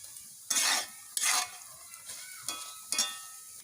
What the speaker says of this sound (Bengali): বেশি কড়া করে ভাজবো না ভাজা হয়ে আসছে